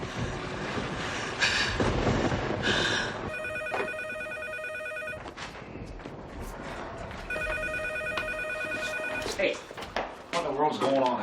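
A telephone rings in a film scene, two long bursts of trilling bell separated by a pause, mixed with a busy soundtrack and dialogue.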